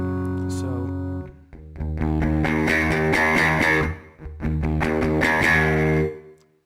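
Electric guitar played through a Deluxe Comp compressor in Line 6 Helix Native, ringing out sustained, even chords and notes in two loud, compressed phrases with a short gap between them.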